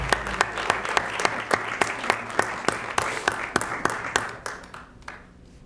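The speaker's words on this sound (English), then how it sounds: "let's give them a round of applause for all their hard work" A room of people at a county commissioners meeting applauds, with steady clapping that fades away toward the end.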